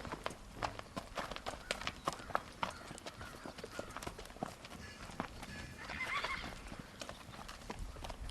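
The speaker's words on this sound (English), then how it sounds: "This is a really nice filly." A young Foxtrotter filly with other horses gives a neigh amid scattered hoof clip-clops and shuffling steps, all fairly faint and distant in an outdoor farm setting.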